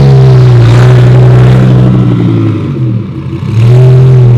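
A 1,000-horsepower RWS car pulls away with a loud, close engine drone that rises in pitch, dips briefly as it shifts, then climbs again.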